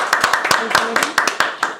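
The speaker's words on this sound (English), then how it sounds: "Let's give a round of applause." Scattered hand clapping from a small audience after a persuasive school speech, with uneven claps in a loose, thinning rhythm for about two seconds.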